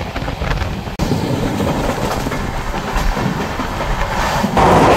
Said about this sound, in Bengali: ক্রস করছে ট্রেন, পলাশি।